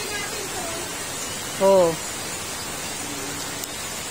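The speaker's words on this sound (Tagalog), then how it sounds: "At ayaw tumigil ng ulan." Heavy rain falls steadily during a flood in Dugongan, Dait, a constant hiss of downpour that fills the whole clip, with a brief voiced exclamation from a nearby person partway through.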